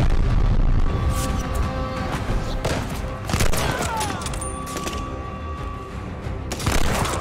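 Repeated game gunfire crackles and booms through a Call of Duty Vanguard firefight, several loud sharp bursts spread across the stretch over dense battle ambience.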